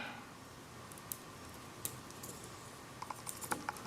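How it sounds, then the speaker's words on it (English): Adhesive tape peeled from plastic inside an Acer Iconia W700 tablet, heard as faint scattered ticks and small crackles that cluster near the end over a steady low background hiss, with no voice. "trying to separate the tape from the"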